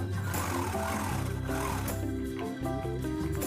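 A sewing machine stitches delicate lehenga fabric in a steady, rapid mechanical whir, close and continuous, with music playing underneath.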